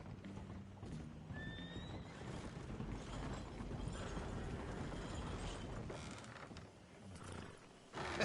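In Red Dead Redemption 2, a horse whinnies briefly while hooves clip-clop steadily nearby, set against rustling ambient outdoor noise with no speech.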